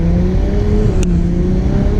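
A Ferrari 812 Superfast heard from the cabin under way, a loud continuous engine drone with a gently rising pitch, without talking.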